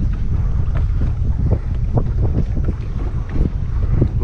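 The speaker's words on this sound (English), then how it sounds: "Bloody wind." Strong wind buffets a fishing boat out on the water, a loud continuous roar with gusty rumbling against the microphone throughout.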